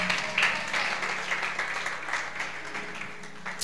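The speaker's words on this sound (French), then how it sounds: "Acclamons le Seigneur pour Living Praise." A church congregation gives dense, steady applause at a French-language worship service to honor a praise band. Many hands clap together close by and the clapping tapers slightly toward the end.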